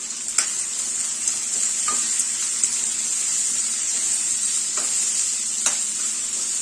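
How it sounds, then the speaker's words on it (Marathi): Chopped onion, cumin seeds, bay leaf and cloves sauté in hot oil in a pan for a Vidarbha-style dal kanda, giving a steady, close sizzle with a few sharp stirring clicks and scrapes scattered through it. "ते आपल्याला एक दोन मिनटं छान असं परतून घ्यायचं"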